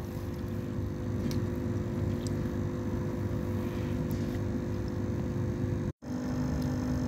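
A water pump motor runs beside guppy tanks during a water change, giving a steady low droning hum under rushing water, with one brief cut near the end.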